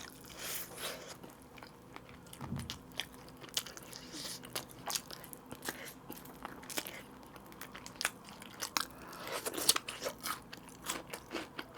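Mom's Touch allulose fried chicken is bitten and chewed up close, with crisp crunches and irregular snaps over several seconds and a faint crinkle of wrapping now and then.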